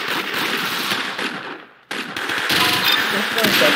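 Automatic gunfire from a weapon in the video game Arsenal rattles in loud, rapid bursts, cutting out for a moment midway before the firing resumes just as densely.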